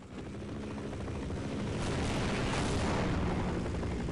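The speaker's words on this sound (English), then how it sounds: "I am so scared of that helicopter." A helicopter in the video game Half-Life flies overhead, a loud, continuous rumbling roar that swells over about four seconds with no talk.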